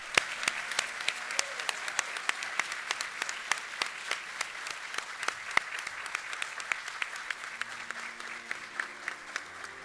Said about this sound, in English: a round of applause for the Batten Honors College class of 2022